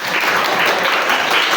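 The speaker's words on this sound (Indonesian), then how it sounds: "Tepuk tangan dong biar seru." A classroom of students claps together in a dense, loud burst of applause that stays steady throughout.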